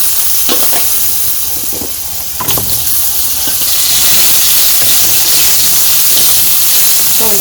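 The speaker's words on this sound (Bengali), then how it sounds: "আলুগুলো ভাজা ভাজা করে নেই" Potatoes fry in a pan in a village kitchen: a steady, close sizzling hiss with a few sharp scraping knocks from stirring, and the frying grows a little louder toward the end.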